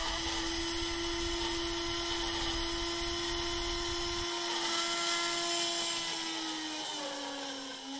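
A high-pitched 3mm drill whines continuously and loudly, its pitch sagging slightly toward the end as it cuts through a plastic gear.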